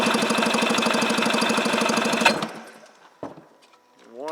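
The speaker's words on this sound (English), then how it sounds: "1989 Yamaha Waverunner WR500 engine compression test." A 1989 Yamaha WaveRunner WR500 engine cranks on the starter during a compression test, a rapid even chugging pulse for about two seconds before it cuts off, followed by a brief clank and a rising whine.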